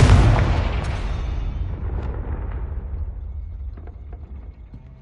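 A Confringo fire spell bursts in Hogwarts Legacy, a single loud, close explosion with a heavy low boom that rumbles and slowly decays over several seconds, with faint crackles in the tail.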